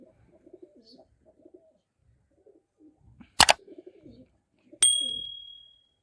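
Lakka pigeons with feathered feet cooing in a village loft, soft low murmuring coos close by, broken by a couple of sharp bursts of flapping or clatter and a brief high whistle-like tone.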